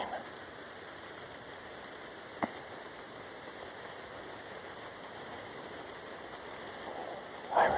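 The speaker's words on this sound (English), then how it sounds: "Listen to these good sounds, these beautiful sounds" Steady rain falls while someone walks outdoors, a constant even hiss with a single sharp tap partway through and a brief louder rustle at the end.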